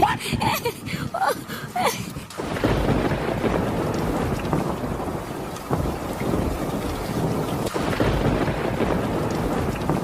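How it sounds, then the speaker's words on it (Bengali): Rain starts falling outdoors, a dense steady wash of noise after a few seconds of louder rumbling and wind buffeting, with faint thunder-like rumbles in the background. "বৃষ্টি শুরু হলো তো"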